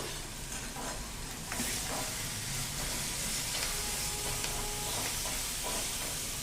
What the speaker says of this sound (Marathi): आता कांदा आपला छान परतवला जातोय